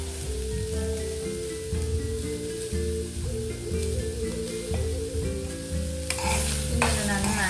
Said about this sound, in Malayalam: ഇങ്ങനെ നന്നായി മിക്സ് ചെയ്യാം.